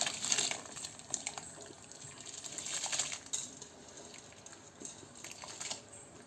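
Soaked rice tipped into boiling water for mutton biryani, a close scatter of pattering grains and splashes over a bubbling, watery hiss, with a few sharper bursts near the start and around the middle.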